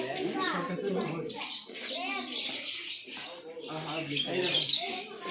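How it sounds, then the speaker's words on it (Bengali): Parrots at a zoo chirp and squawk in bright bursts, close and fairly loud, with people talking over them. "এগুলো টিয়া পাখি, তাই না?"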